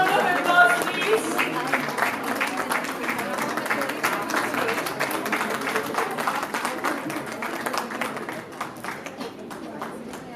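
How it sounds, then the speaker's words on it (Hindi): Audience applause at a women's awards ceremony, a sustained round of clapping with busy crowd texture that stays fairly loud and thins slightly toward the end. "Huge round of applause, please."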